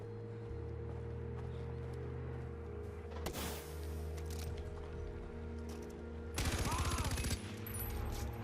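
Gunfire in the video game Far Cry 4: a sharp burst of shots near 3 seconds, then a denser, louder rapid-fire volley a few seconds later, over constant in-game ambience.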